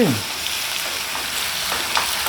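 Onions fry in hot oil with a dense, even crackling sizzle close by, a brief scrape of a utensil at the start and no voices.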